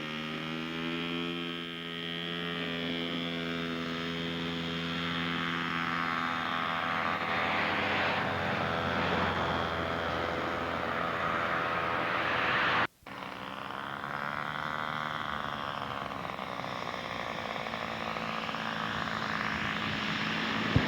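A quarter-scale Newport 28 model aircraft powered by a Chinese Twin Star 240 engine runs with a loud, steady droning roar and strong harmonic whine, briefly cutting out for an instant before resuming at a shifting pitch.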